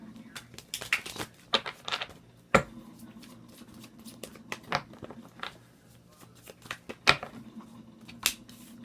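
Tarot cards being shuffled by hand in a quiet room, a series of crisp riffling snaps and short bursts with pauses between, close and fairly soft with a low hum beneath.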